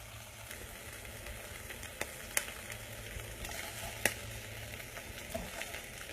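Shrimp sizzles steadily in a hot pan during a home stir-fry, a continuous low frying hiss with a couple of sharp clicks as pieces are moved about.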